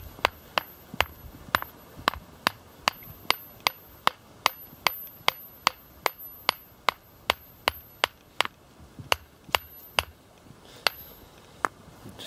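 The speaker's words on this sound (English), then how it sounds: "beat some of the rust off of it" An iron cannonball struck with a hammer to knock off rust, giving a steady series of about two dozen sharp metallic blows at a brisk, even rhythm, close and clear over a quiet outdoor background.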